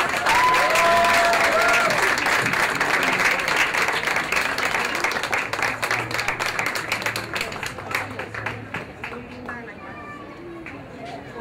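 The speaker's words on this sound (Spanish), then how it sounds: "Un fuerte aplauso para Casablanca." Audience applause at an award ceremony for a children's art salon, loud sustained clapping from a crowd that slowly thins and fades, with voices and a cat-like squeal audible underneath.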